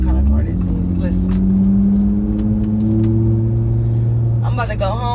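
A car engine revs steadily from inside the moving vehicle, a loud continuous drone with rising and falling pitch, heard alongside a person talking and brief bursts of other voices.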